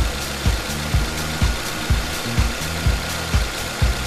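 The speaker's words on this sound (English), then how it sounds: "Confirm that the engine is running." A car engine idles steadily during a carbon cleaning job, holding a low continuous drone with a regular knock-like pulse about every half second, loud and close, with no voices.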